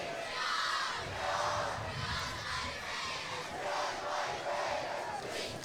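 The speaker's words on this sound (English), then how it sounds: "The junior cheerleaders leading the crowd in the "We Are the Mighty Raiders" chant." Crowd chanting in unison at a high school football game between Hudson Raiders and Superior, led by junior cheerleaders, a steady rhythmic roar of many voices filling the stands throughout.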